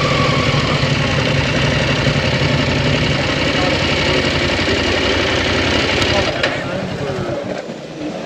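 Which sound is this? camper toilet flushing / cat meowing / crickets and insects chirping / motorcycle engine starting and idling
motorcycle engine starting and idling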